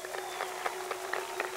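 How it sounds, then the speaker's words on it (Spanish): An audience applauds a dance couple at a casino rueda dance battle in Havana, a steady patter of many hands clapping at a moderate distance. "Aplauso para los muchachos, aplauso para ellos."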